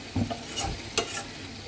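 Food frying in a pan for a breakfast meal, a close sizzle broken by a few sharp spatula scrapes and stirring knocks, with no talking.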